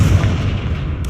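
The Confringo explosive spell going off in Hogwarts Legacy, a single loud, booming, close blast with a deep rumbling body that fades over about a second.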